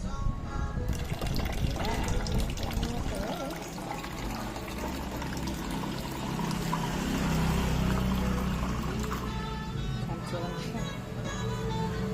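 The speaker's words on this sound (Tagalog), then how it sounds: "Lalagyan ko ng water dito." Water poured while making tea, a steady liquid stream running for several seconds at moderate level, with music and ambient noise underneath.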